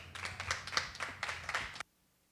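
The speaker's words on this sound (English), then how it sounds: "Round of applause for all the speakers" A small festival workshop crowd at ComFest 2014's outdoor Solar Stage claps for the speakers in a brief, close patter of hands that stops abruptly, leaving near silence.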